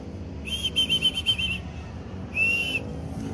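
A pigeon keeper's whistle blown outdoors to call young pigeons back, a rapid series of shrill short blasts followed after a pause by one longer piercing blast, over faint background noise.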